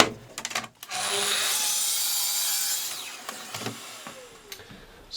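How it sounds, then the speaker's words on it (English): A sheet of 12mm WBP exterior-grade plywood is cut to size for planter panels and base, with a few handling knocks, then a steady loud saw cut for about two seconds that tapers off into scattered clatter, close and without talk. "I'm cutting this to size to make the panels and the base"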